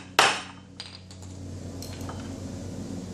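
A hammer strikes a steel center punch against aluminum once, giving a sharp bright metallic clink up close, then a fainter tap and low background hum.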